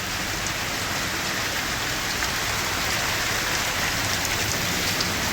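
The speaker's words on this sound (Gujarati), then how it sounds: "આ જોરદાર વરસાદ ચાલુ છે ભાઈ અત્યારે." Heavy monsoon rain pours down outside a shop, a dense, steady hiss of water pounding surfaces that stays loud and even throughout, with no voices.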